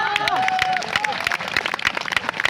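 Applause from a mushaira audience in Jamtara: a dense patter of many hands clapping at close range, with a voice speaking over it.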